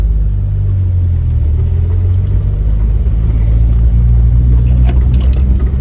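Turbocharged Ford Pinto wagon engine idling steadily on a test run, a loud, close, continuous low rumble with a slight swell toward the end and faint ticking above it.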